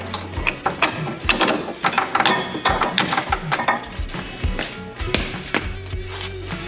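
A ratchet wrench clicks in quick repeated bursts, close up, as bolts are tightened on a coilover bracket mounted to a car's control arm.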